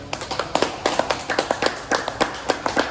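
A small group claps together, giving a quick round of applause with sharp, uneven hand claps in a room for about three seconds, no talk over it.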